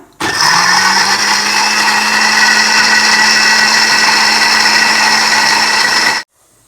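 A kitchen mixer grinder runs steadily for about six seconds, grinding cooled ingredients into masala for an avarekka (field bean) curry, its loud high motor whine starting and cutting off abruptly, with no talk.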